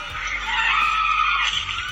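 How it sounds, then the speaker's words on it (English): A shrill, sustained human scream from a scene in The Walking Dead TV series, loud and continuous for about two seconds, seemingly a desperate yell with its words blurred. "if you listen very closely to the scream"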